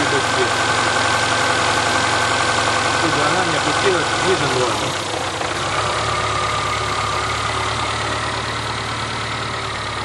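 Car engine idling at low revs during a cooling system flush with citric acid, a steady close mechanical hum running the whole time while someone talks over it.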